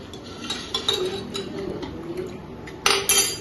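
A metal plate is set down among dishes with bright clinks and scrapes of cutlery, a scattering of light taps followed by a sharper, louder clatter near the end, close by.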